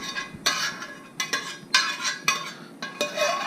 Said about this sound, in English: now we are going to transfer the ground beef, peas, and carrots into our pan